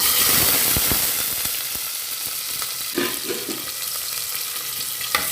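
Onion and garlic frying in hot oil for sambar rice, a dense steady sizzle with occasional stirring scrapes and clicks of a spoon in the pan.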